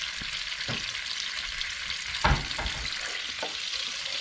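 Vegetable oil, added to a little margarine, heats in a pan for frying pike, giving a steady bright sizzle with a few soft knocks and one louder clunk of cookware partway through.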